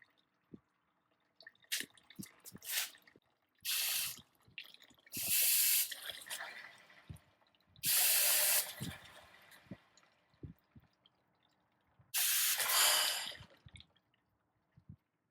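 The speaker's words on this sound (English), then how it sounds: "I am going to close the petcock off once it stops dripping" Coolant drips irregularly from the radiator drain petcock of a Ford F150, tapping close by, broken up by several loud bursts of hissing spray, with quiet gaps between.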